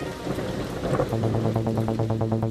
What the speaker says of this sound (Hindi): लगता है बाहर शायद बारिश हो रही है